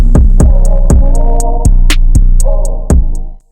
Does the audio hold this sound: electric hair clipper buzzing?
yes